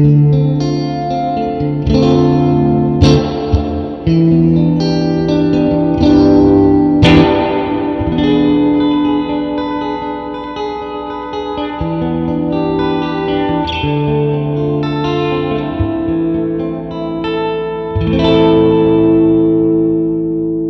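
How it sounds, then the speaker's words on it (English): Electric guitar played through a handwired Princeton Reverb amp with the spring reverb turned to 10, loud chords and notes smeared into a long, splashy wash that keeps ringing between strums. "I don't know anyone who'd want to play with that much reverb, but for giggles, let's put it on 10."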